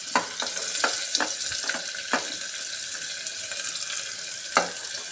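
Onion and capsicum frying in hot oil with a little ghee, a continuous close hiss of sizzling with occasional sharp crackles and pops.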